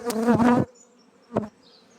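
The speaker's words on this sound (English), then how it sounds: "it's a fairly substantial swarm because it has 6 frames almost covered in bees" A honeybee swarm, rehoused three days earlier in a hive with six frames nearly covered in bees, gives two loud buzzing bursts, a long close drone and then a short sharp one, with a faint hum between.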